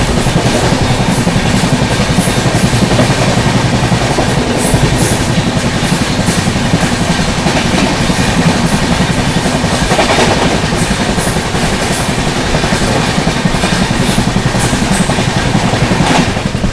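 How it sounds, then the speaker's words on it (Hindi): CR Rajdhani Express overtaking the Mangala Lakshadweep Superfast Express, heard as a loud, continuous roar of a train in motion with rhythmic clickety-clack of wheels on rails throughout and no talking. "CR Rajdhani overtaking Mangala Lakshadweep superfast express."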